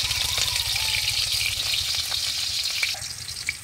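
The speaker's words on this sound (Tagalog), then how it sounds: "naglagay na tayo ng ng mantika and lagyan natin yung sibuyas bawang" Onion and garlic sizzle steadily in hot cooking oil for chicken adobo with string beans, a dense close crackle with a few light stirring knocks and no talk.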